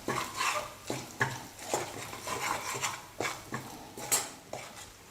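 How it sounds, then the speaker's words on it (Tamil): Ground masala powder is stirred in hot oil in a pan for a non-veg curry, heard as a run of repeated scraping and clinking spatula strokes against the pan, fairly close and quiet, with no speech. "மசாலாலாம் சேர்த்ததுக்கப்புறம் கொஞ்சம் நேரம் நல்லா வதக்கிக்கலாம்"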